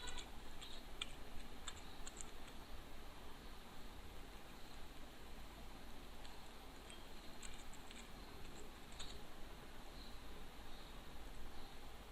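Someone types a Reddit post on a computer keyboard, a faint run of irregular key clicks over a hiss of background noise, with no voices.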